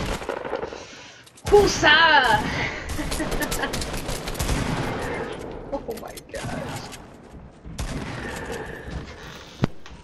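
Heavy shotgun blasts in a PS4 squads shooter game: a loud booming shot early, a busy stretch of combat noise, and another sharp blast near the end, with someone shouting briefly.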